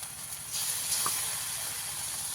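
Poppy seed and almond paste goes into a hot pan, and a loud, steady hiss of sizzling starts abruptly and carries on to the end.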